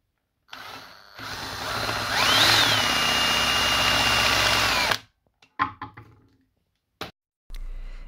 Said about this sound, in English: I'm also going to drill out the back side so it can fit nicely onto the